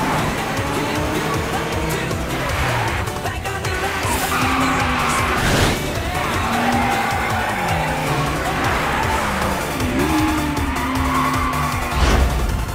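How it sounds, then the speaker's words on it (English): Cars drift through a mountain race in the Initial D anime, with tires squealing in long sliding tones over revving engines. Sharp skids rise and fall repeatedly, close and loud, and brief talk surfaces between them. "Drifting, huh?"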